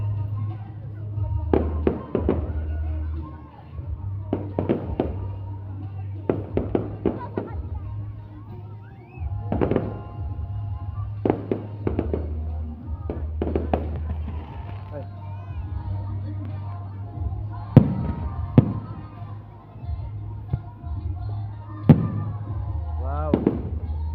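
A fireworks display explodes over Sta. Maria Pangasinan in repeated booming bursts, some single and some clustered, with crackling tails. A low steady hum runs underneath and crowd voices murmur between the blasts.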